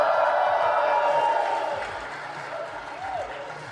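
A crowd cheers and applauds at a live podcast event in a creative headquarters, loud at first and then fading, with a voice speaking over the dwindling noise.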